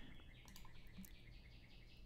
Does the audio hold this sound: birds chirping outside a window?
yes